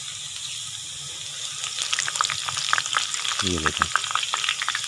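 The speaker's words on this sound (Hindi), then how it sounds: "साथ साथ ही घी के अंदर जाती जाएंगी और तैयार होती जाएंगी।" Besan sev frying in hot ghee, a steady crackling sizzle with bubbling bursts and a brief stirring splash near the end, close and continuous under a short spoken remark.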